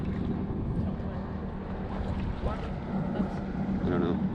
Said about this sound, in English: It's an amazing amount of wind out here today.